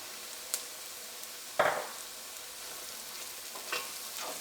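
Turmeric powder frying in oil over medium flame for a Kerala chickpea curry, a soft steady sizzle with a few quiet spoon scrapes and one clearer stirring stroke.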